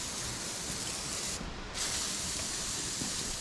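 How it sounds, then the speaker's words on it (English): WD-40 is sprayed inside metal parts to keep them from rusting: a steady, close aerosol hiss that cuts out briefly midway, then resumes just as loud. "just coat everything in WD-40 because then it won't rust"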